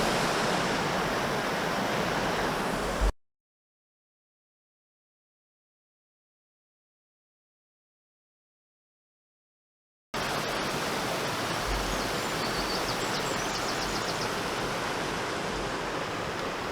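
Steady rushing water pours over a salmon weir on the Burn Deele river at Convoy, a dense, continuous broadband roar that cuts out to silence partway through and then resumes at the same level, with no voices.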